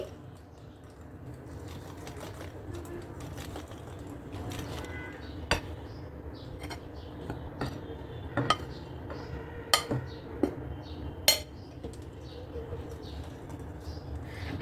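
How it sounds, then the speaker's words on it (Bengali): Chocolate cake batter being stirred in one direction in a bowl, a steady soft scraping churn with sharp utensil clinks against the bowl now and then, continuous and close. "এক ডিরেকশন থেকে ঘুরিয়ে মিশিয়ে নিচ্ছি"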